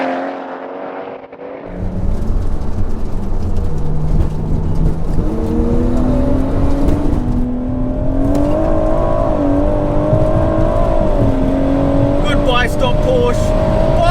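Roll race between a 700 hp BMW M140i and a 580 hp Porsche 911 Turbo S, heard from inside a car: engine roars up through rising revs with gear shifts, loud and close, with a voice talking over it.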